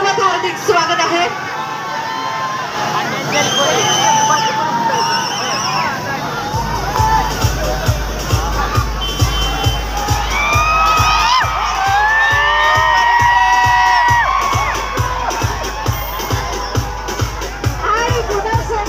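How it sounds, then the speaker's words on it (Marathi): A large audience at an inauguration event in Akluj cheers, whoops and claps loudly in welcome of a guest, with children shouting among the crowd and a steady pulsing beat of music underneath throughout. "टाळ्या जोरदार झाल्या पाहिजेत पवन जाधव सर यांच्यासाठी"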